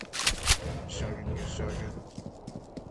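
Shotgun blasts in the video game Criminality, two loud sharp reports close together at the start followed by echoing decay and lighter clicks, heard near with a voice talking.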